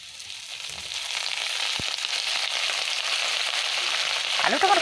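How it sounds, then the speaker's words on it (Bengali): Potatoes fry in a pan, giving a continuous close sizzle that swells gradually and stays alone without talk. "আমি আলুটা একটু ভাজা ভাজা করে নিচ্ছি"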